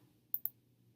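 Two quick computer mouse clicks close together, crisp and near, in an otherwise quiet room.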